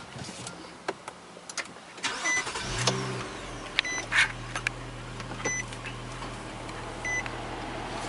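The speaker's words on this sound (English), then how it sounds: "now we'll start up the car." A car starts up at close range with a short cranking burst that catches into a steady idle hum, accompanied by repeated dashboard beeps and chimes.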